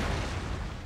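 Cannon fire in Empire Total War, a dense rumbling boom of artillery that fills the moment without a break, loud and close.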